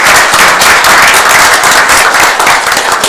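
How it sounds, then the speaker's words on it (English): Sustained applause fills a board meeting room, loud and steady clapping from a group throughout with no pauses. "we're going to applaud"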